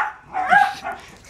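Dogs bark at a porch in a couple of short, yappy barks with a brief whimpering yip, close by and fairly loud, with no talking.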